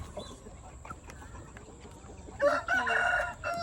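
A young Indio Gigante or Shamo chicken about three months old clucks, with a burst of louder squawking calls near the end, over a steady background hiss.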